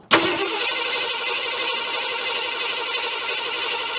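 An engine is cranked with the carburetor throttle held wide open for a compression test, giving a steady, loud, rhythmic churning after a sharp start that continues unbroken.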